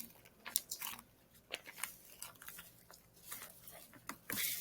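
A popcorn-shaped squishy toy is squeezed close up, giving repeated soft crunchy crackles and squelches in uneven bursts, fairly quiet with no talking.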